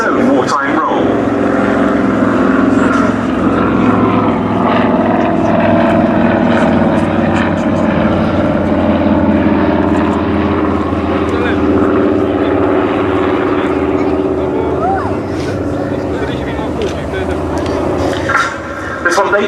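A camouflaged 1941 de Havilland Dragon Rapide, built as a Dominie, runs its propeller engines at a VE Day airshow at Duxford. It gives a loud, steady droning roar throughout while a commentator speaks over it.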